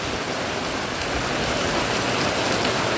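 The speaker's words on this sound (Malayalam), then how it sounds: "അപ്പോൾ ഇവിടെ നല്ല മഴ പെയ്യുന്നുണ്ട്" Steady, dense rain patters evenly on surfaces nearby, a constant hiss without breaks or voices.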